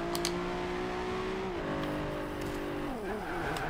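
A 2012 Nissan GT-R Black Edition in the video game Forza Horizon 2 drones with a steady engine note that drops in pitch twice as it shifts gears, fairly quiet and continuous with no talking.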